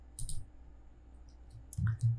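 A computer mouse clicks a few times in quick, crisp taps, close and isolated against quiet room tone.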